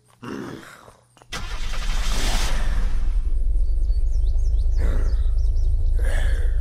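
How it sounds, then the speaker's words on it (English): A car in the video game Unturned cranks briefly, then its engine catches and roars into a loud, sustained drive-off, with faint bird chirps in the background. "We're going to run and jump in this car and take off"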